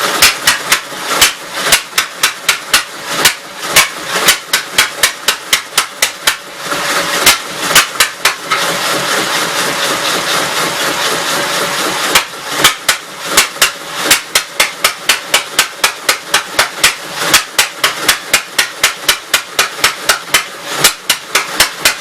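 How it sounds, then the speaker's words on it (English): Engine of a 1965 L8 truck idling with the choke open, loud and close, thumping in an uneven rhythmic lope that smooths into a rougher steady roar partway through. "Put the throttle back down at idle and just see what it does."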